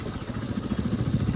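A motorcycle engine idling nearby, a steady low chugging rumble with an even, fast pulse that carries on alone without voices.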